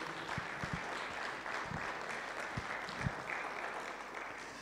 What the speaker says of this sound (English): Clap for the King of Glory.